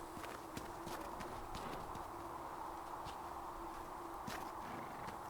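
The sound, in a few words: horse hooves clip-clop in video game Dragon Age: Inquisition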